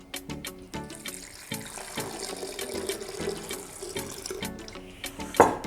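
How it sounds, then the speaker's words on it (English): Coconut milk poured into a plant-based chocolate milkshake, a steady liquid splash and trickle running close and fairly loud for several seconds with a brief louder burst near the end. "And then I'm going to add my coconut milk."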